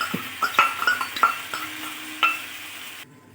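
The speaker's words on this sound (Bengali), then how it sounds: "এবার এই প্যানের মধ্যে রসুন কুচি দিয়ে দিলাম, লঙ্কা কুচি দিয়ে দিলাম। জাস্ট হালকা নাড়ার পরই এই সসটা দিয়ে দিচ্ছি।" Chopped garlic and chili stirred in a frying pan, with a faint sizzle under repeated sharp metallic clinks and scrapes of a spatula against the pan, close by, then abruptly cut off.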